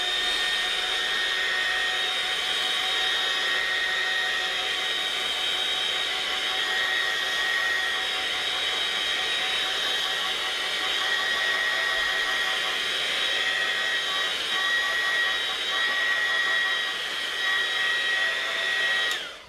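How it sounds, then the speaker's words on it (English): Hair dryer blowing steadily on a watercolour painting to dry the paint, a continuous close, loud airy whine lasting the whole stretch with no pauses. "get the dryer on the job."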